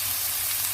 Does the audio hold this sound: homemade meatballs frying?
yes